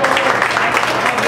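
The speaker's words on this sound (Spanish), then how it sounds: "Un aplauso para el señor James Córdoba." Audience clapping for trumpeter James Córdoba at a live salsa orchestra show, a steady loud wash of hand claps with a faint murmur underneath.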